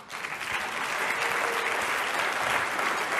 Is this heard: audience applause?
yes